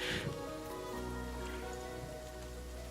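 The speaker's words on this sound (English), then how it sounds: "It's still raining" In Genshin Impact, rain falls steadily as a continuous pattering wash, joined by soft game music tones and a brief brighter splash near the start, with no talk.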